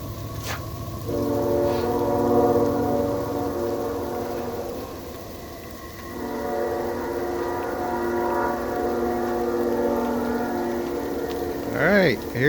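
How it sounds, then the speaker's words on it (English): A train rolls past in a snowy South Carolina town during a blizzard, its horn blaring in long sustained chords that stop briefly and then resume, with rumbling rail noise beneath and a brief whine at the end. "Alright, I hear you, train."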